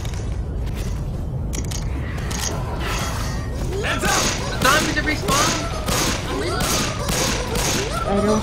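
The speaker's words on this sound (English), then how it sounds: "Another fireworks pipe bomb." A fireworks pipe bomb goes off in Left 4 Dead 2, a loud, rapid crackling barrage of small pops and bangs building from a rumbling game background and continuing to the end.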